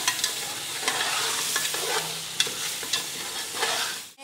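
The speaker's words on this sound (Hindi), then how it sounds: "गोश्त की दोनों साइडें अच्छी तरह से चेंज कर लेनी है ताकि इसमें मसाला अच्छी तरह से रच जाए" Pieces of meat sizzle in hot oil while a spoon stirs them with spices for Afghani pulao, a loud close crackle broken by repeated scraping strokes against the pot.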